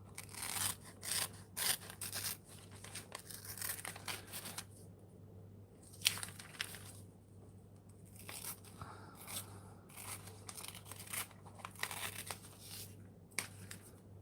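Small curved nail scissors snip through paper while cutting out a mandala shape, a steady series of close, crisp cuts and rustles in irregular bursts, with a low steady hum beneath and no talking.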